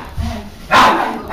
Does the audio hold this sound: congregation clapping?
no